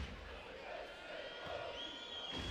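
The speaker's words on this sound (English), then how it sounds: "Now you can still hear the home crowd, but they weren't as loud as they were in the first half." Home crowd at a FIBA Basketball World Cup 2019 game in Bosnia and Herzegovina, a steady, moderately loud arena murmur and roar that holds evenly throughout, somewhat subdued, with a commentator's voice over it.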